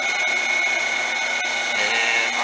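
A milling machine head running at 200 RPM in a workshop gives a steady, loud, continuous whirring hum with a persistent high tonal whine, unbroken for the whole stretch with no talk.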